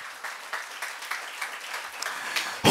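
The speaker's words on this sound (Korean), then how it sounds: "이럴 때 영광의 박수 올려드리는 거예요." A church congregation during a Sunday worship service gives a short round of applause of glory, a fairly soft patter of clapping with a sharp loud burst at the very end.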